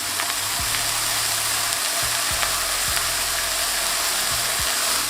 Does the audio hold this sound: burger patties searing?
yes